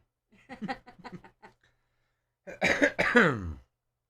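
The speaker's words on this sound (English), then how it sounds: "I've been fighting a cough" A person coughs and clears their throat in a harsh burst after a few short, quieter vocal sounds, close to the listener.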